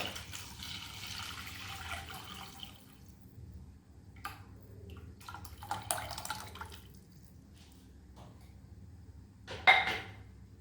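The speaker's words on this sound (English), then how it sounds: "Pour tamarind water." Tamarind water is poured into a pan in a thin, trickling stream, soft and close, then a brief louder splash near the end.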